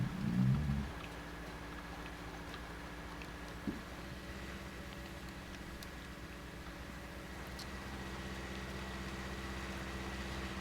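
A small tractor engine in the Farming Simulator 19 game, pulling a small seeder across a field, hums at a steady low idle-like drone throughout, fairly quiet, with a brief bump near the start and a faint click midway.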